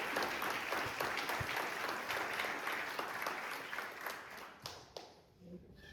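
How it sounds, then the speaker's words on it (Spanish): A church congregation applauds in a dense, continuous patter of many hands that swells briefly and then thins out into scattered claps near the end. "Un aplauso a nuestro Dios"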